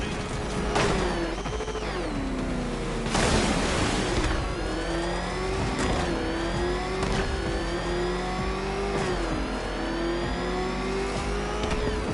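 The Batmobile's engine in a Batman video game revs steadily and loudly, with rising and falling pitch as it accelerates, and bursts of mechanical roar stand out over a continuous game soundscape with no voices.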